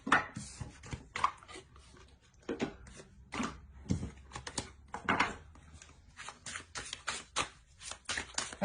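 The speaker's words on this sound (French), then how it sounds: "On va tirer une carte conseil." A tarot card drawn from a deck during a reading, a series of soft papery flicks and slides between brief taps, close and fairly quiet with no talking.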